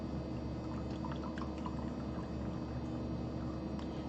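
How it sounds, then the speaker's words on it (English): Water gently poured into a small juice glass over crystal powder, a soft continuous trickle with faint splashes and a low steady background hum. "you want to be gentle when you're putting your water in"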